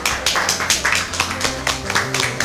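A small group of people clap in uneven rhythmic bursts, close by, over a low background hum.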